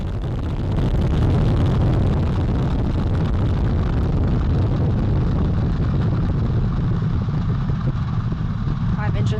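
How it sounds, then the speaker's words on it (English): The Artemis rocket lifts off, its core stage engines and two solid rocket boosters producing a loud, continuous, roaring rumble that builds in the first second and then holds steady, heard from a distance with wind buffeting the microphone. "Engines on the core stage and 2 solid rocket boosters now propelling the vehicle at 128 miles per hour"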